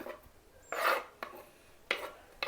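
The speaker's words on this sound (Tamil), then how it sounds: "வெங்காயம் இப்படி ஸ்லைஸ் தான் நம்ம கட் பண்ணணும்" Knife slicing spring onion on a cutting board for a cucumber salad, several short crisp cutting strokes at an uneven pace, close and moderately loud, with no voices.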